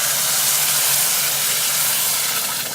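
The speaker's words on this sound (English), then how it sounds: "Watch the steam, Maddie." Steam hisses loudly as water is poured onto browned rice in a pan while making Spanish rice at home, a broad, steady sizzle that holds evenly and eases slightly at the end.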